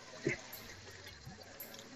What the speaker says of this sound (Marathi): हा पाणी असं मग पाटाच्या मार्गे आतमध्ये पूर्ण बागेला सोडला जातो.